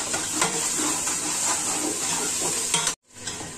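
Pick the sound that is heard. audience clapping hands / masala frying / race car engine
masala frying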